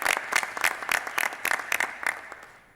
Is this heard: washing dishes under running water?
no